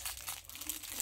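A wrapped fidget toy package is unwrapped close by, giving soft, quiet crinkling and crumpling of wrapping for about a second, with no talk.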